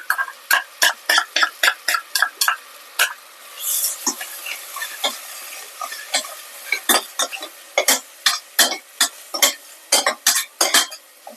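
Ginger garlic paste fries in a pan for a mutton curry while a metal spoon stirs it, giving a rapid series of sharp scraping clinks in bursts over a soft, continuous sizzle, close and fairly loud.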